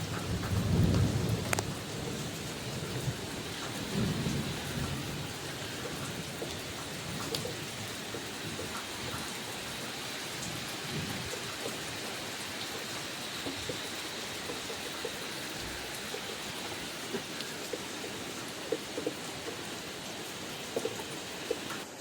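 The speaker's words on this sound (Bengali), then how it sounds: "দেখো একদম ঝমঝম করে বৃষ্টি হচ্ছিল" Heavy monsoon rain pouring steadily on a rooftop in Bengal, a dense continuous hiss with low thunder rumbling near the start, no voices.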